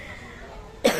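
One short, sharp cough from a person with a cold bursts out near the end, after a quiet stretch of faint room noise.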